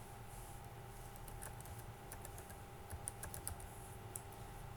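Someone types an email address into a Microsoft Teams sign-in window on a computer keyboard, making quick, light key clicks in an uneven sequence, faint and close over a low background hum.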